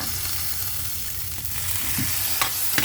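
Rice stir-fried with egg, chili and carrot in a pan, giving a steady close sizzle with scraping stirs and a few sharp clicks of a spatula against the pan.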